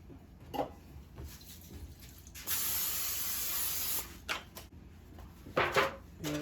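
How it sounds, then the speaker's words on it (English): Cooking oil sprayed into a cheap disposable foil baking pan for lemon rolls: one steady, close hiss lasting about a second and a half, with small kitchen knocks before and after. "I'm just going to spray, I got this little, those little cheap disposable foil pans."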